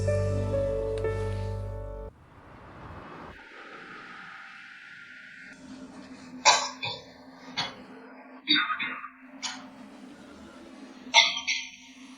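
A few harsh coughs and throat clearings come in short bursts, close by, after a stretch of music and quiet background noise.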